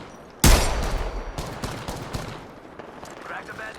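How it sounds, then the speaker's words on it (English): Rapid bursts of gunfire from a shooter video game, opening with a loud burst and continuing as scattered shots and volleys under speech. "They're shooting at me."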